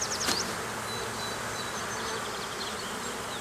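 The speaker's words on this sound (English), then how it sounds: "We got plenty of bees though. I mean, every frame has bees on it" Honey bees buzz around an open hive during a morning inspection with frames pulled out, a dense, steady hum that is fairly faint and continuous.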